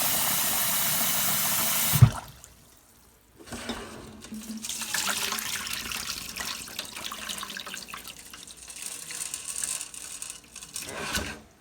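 A kitchen tap runs into a container while wild bird seed is rinsed, a loud steady water rush cut off briefly, then a softer continuous splashing and swirling of seeds in water, close and alone.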